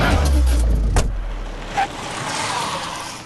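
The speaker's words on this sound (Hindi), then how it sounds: "चले गाड़ी निकाल।" A car pulls away in a dubbed film scene. A loud, close engine rumble fades over a couple of seconds into a softer wash of road noise.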